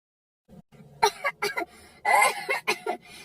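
An elderly woman coughs several times in quick, rasping bursts, close by, with a short throaty sound before the coughing begins.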